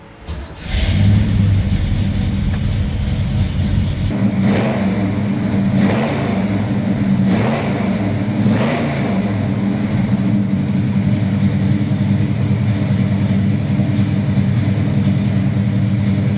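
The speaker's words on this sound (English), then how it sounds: "how about I fire it up for you, because this car sounds wonderful." A 450hp 1971 Chevrolet Camaro SS396 V8 with an M22 gearbox cranks over and fires, then settles into a loud, steady idle punctuated by three or four sharp throttle blips that rise and fall, close up with no talking.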